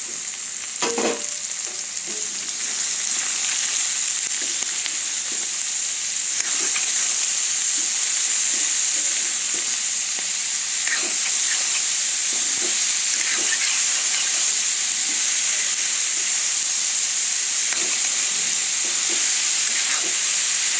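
Ridge gourd and prawns fry in a pan with a steady, loud sizzle and hiss, and a spoon scrapes and stirs now and then, with no talking.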